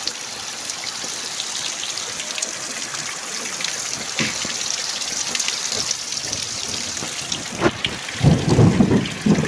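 Heavy rain pours steadily on surfaces close by, with thunder cracking and rumbling loudly near the end over the constant downpour.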